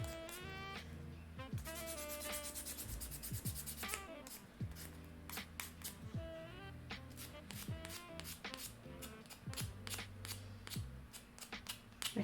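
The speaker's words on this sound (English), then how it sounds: "watching me sand these things" Repeated rasping strokes of sandpaper hand-sanding a small piece of miniature wooden furniture, a long dresser, close up, in quick rhythmic bursts without talk.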